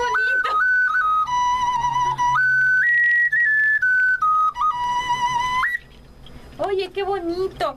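A pre-Hispanic clay flute, an ocarina, plays a clear, loud, breathy melody of held notes stepping up and down, then stops, followed by a short burst of quick trilling notes with faint voices nearby.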